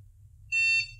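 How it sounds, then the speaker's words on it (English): A single short electronic beep from a Petrainer PET998DBB2 dog training collar powering on, clear and high-pitched, sounding once for about a third of a second over faint low hum. "It beeps, and then you press the Y button on your remote."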